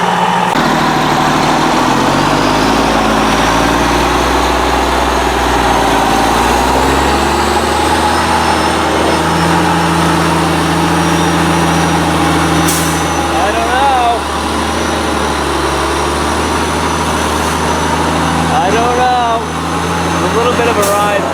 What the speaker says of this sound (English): We'll see if the Western Star can crawl out of here again.